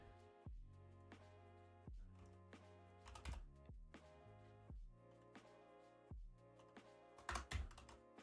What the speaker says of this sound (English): It's a keyboard. What more do you really need?